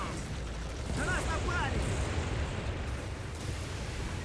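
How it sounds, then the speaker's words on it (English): Mortar fire in the video game Codename Panzers sends out dull, rumbling explosions amid a dense battlefield roar. Short chirping game effects are audible, and a voice speaks faintly underneath. "There's a mortar going on."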